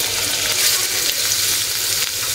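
Spice paste fries in oil in a pan for a fish dish with olives, a loud, dense, continuous sizzle heard up close without talk.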